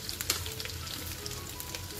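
Diced potato mixed with ground peanut powder and salt sizzles steadily in hot ghee, with soft stirring scrapes and a few sharper crackles over a low, continuous fry.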